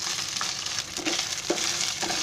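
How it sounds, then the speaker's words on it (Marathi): Ginger-garlic paste frying in a pan for Konkani mutton biryani: a steady close sizzle with soft stirring scrapes, no talking. "लसूण अद्रकची पेस्ट टाकली ना, ते चांगलं भाजून घ्यायचं."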